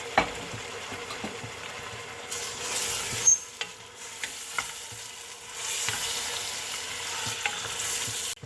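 Mutton pieces stir-fried in a pot for aloo gosht curry, a steady close sizzle broken by scraping stirs and clinks of the spoon against the pan.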